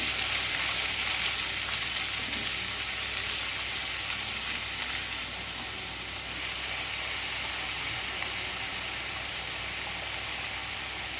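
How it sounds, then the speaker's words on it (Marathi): Roasted chillies sizzling in a pan, a steady, bright hissing fry that stays loud and even throughout, close up with no talk. "मिरची बघा छान भाजून घालली"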